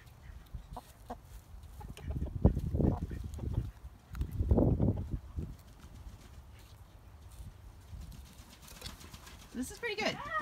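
Chickens cluck and scratch about in a planted garden bed, in short bursts of soft clucking and rustling at close range, with a person talking quietly in between.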